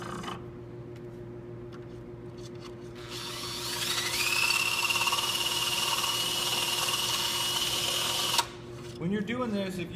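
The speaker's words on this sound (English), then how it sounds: "When you're doing this, if you have more of the drill bit inserted, it works better than being all the way out here." Power drill with its bit turning against a motorcycle electric center stand shaft, a steady rising whine running for several seconds between quieter stretches of background noise.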